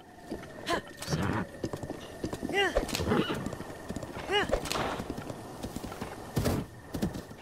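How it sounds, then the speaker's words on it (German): Rhythmic horse hoof clip-clop with two distinct neighs partway through, from the video game The Legend of Zelda: Breath of the Wild, under a talking voice, moderately loud. "Flunz ist ein gutes Pferd."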